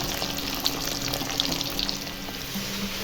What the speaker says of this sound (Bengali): ডিম আর আলুটা ভেজে নিচ্ছি।